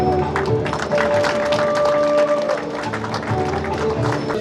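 Audience applause rises at a community gathering, a steady wash of clapping that fills the whole stretch at fairly close range, with a few faint tones underneath.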